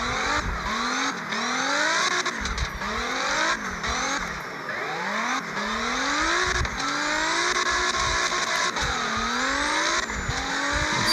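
A Corvette C6 in CarX Drift Racing 3 drifts with a loud engine rising and falling in repeated revving sweeps, tires squealing throughout, with no talking.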